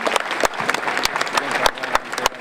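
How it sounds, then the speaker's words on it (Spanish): Dense, lively clapping from a crowd at the inauguration of a new school complex in Sancor, continuous and fairly loud, with sharp individual claps standing out. "el aplauso, por favor, el aplauso para ello"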